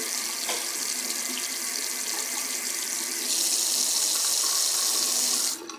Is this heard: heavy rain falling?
no